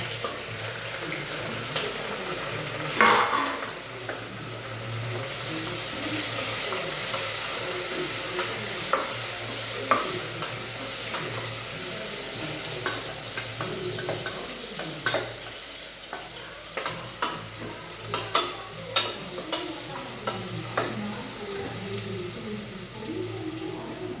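Onions and curry leaves frying in hot oil for a chicken gravy, a continuous bright sizzle with repeated clinks and scrapes of a stirring spoon, close and steady throughout.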